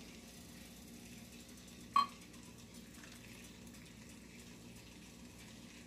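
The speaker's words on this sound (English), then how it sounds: "I'm gonna add some water." Water is poured into a pot of Tex-Mex carne guisada beef stew, a soft gushing fill under a low background hum, with one sharp knock partway through.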